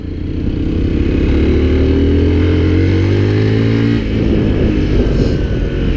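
Loud, close engine of a Mondial Drift 125 L motorcycle revving hard in second gear, a steady rising whine that holds high, then drops and settles at about four seconds.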